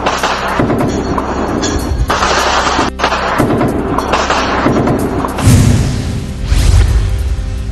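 Gunfire from the Pakistani army along the Line of Control near Kupwara and Poonch at night: heavy, rolling booms and thuds that repeat almost without a break and stay loud throughout.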